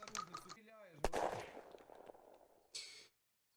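Unturned gunfire: a sharp close shot followed by a decaying rattle and a few smaller reports, with a voice talking at the start of the quick burst.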